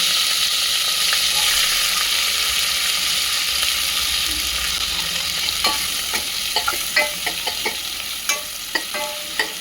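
Onion dropped into hot oil in a pan for a grandmother's kulith usal, a steady loud sizzle with repeated sharp crackles and stirring clicks building in the second half.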